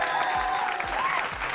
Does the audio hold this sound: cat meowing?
no